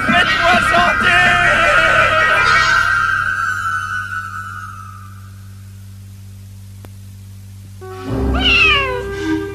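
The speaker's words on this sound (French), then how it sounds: "Tiens, oh, le gentil minou." A cat meows in long drawn-out cries, falls quiet for a few seconds, then lets out another short meow near the end.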